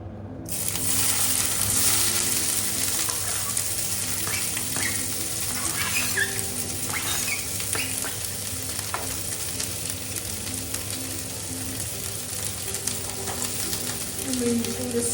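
Peppers and carrots sizzle steadily in a hot pan, a continuous crackling fry with occasional scrapes and clinks of a spatula stirring them, and an extractor fan hums in the background.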